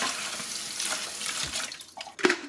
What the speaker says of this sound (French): Voilà le cycle auto-nettoyage. On rince.